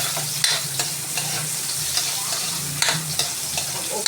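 Garlic and onions fry in a hot pan for a dish of bottle gourd with sardines. A dense, even sizzle runs throughout, broken by regular stirring scrapes and occasional clicks of the utensil.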